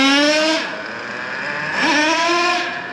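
Traxxas Revo 3.3 nitro RC truck engine, running lean on the low-speed needle, idles with a buzzing drone, rises in a brief rev, then drops back and climbs again in a second blip, loud and close.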